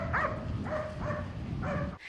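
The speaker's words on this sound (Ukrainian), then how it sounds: "Лише надвечір собака подає голос." A search dog at a building collapse site gives four short, strained barks and yips spaced about half a second apart, fairly close against a steady rumble of background noise.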